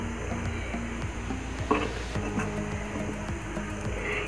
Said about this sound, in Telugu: మన కంద కూడా కలర్ చేంజ్ అయిపోయింది, కంద బాగా ఫ్రై అయిపోయింది